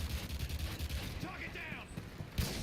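A weapon magazine swapped in Call of Duty: Modern Warfare 3 beta gameplay: a short run of quiet mechanical clicks and ratcheting metal, set against steady low in-game background noise.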